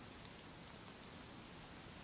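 Steady rain falling in the survival video game DayZ, a continuous soft hiss of drops spread evenly across the whole moment, fairly quiet and heard alone with no voices.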